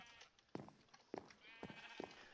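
Sheep on a Minecraft sheep farm bleat in four short, distinct calls spaced about half a second apart, fairly faint against a quiet background.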